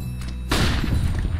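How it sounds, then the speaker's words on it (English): A flashbang grenade goes off in a first-person shooter game: a sudden loud burst arrives about half a second in and is followed by a sustained dense roar that fills the rest of the clip. "Throwing flashbang."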